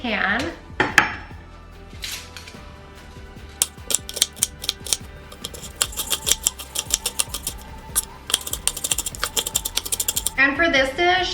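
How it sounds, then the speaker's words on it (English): Half a red onion diced finely with a knife on a cutting board, producing a long run of quick, sharp, close taps that speed into rapid bursts, with brief clatter at the start and end. "I have half of a red onion here that I'm gonna dice up as fine as I possibly can"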